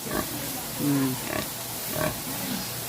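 Several short, low pig grunts sound close by in separate bursts, with a faint background hum and no talking.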